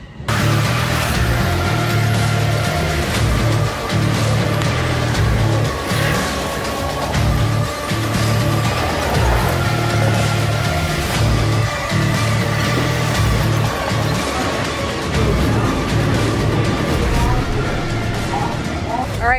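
Wildcats Revenge roller coaster at Hershey Park, a loud, continuous rushing rumble of the train running its track at speed, steady and unbroken throughout.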